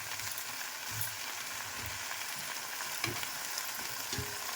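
Kochu greens and a hilsa fish head sizzle steadily in a pan as they are stirred, with a constant frying hiss and a few soft scrapes and knocks of the spoon.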